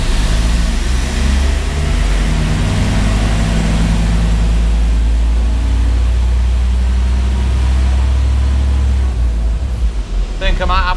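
A Ford Transit Mk1 van engine, in sixth gear with the clutch out, is held at raised revs: a loud, close, heavy drone that stays fairly even throughout.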